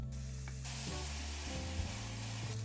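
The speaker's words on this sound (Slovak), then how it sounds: "K cesnaku teraz pridáme 2 veľké lyžice kari korenia a ďalej ešte trošku opekáme s cesnakom." Garlic with curry spice and chopped tomatoes fry in a pan, a steady loud sizzle that shifts as ingredients are stirred, under a faint tonal background hum.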